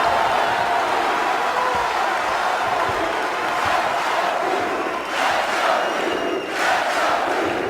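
Basketball crowd at Cameron Indoor Stadium roaring for Duke against Clemson, a loud sustained wall of cheering and yelling that swells near the end.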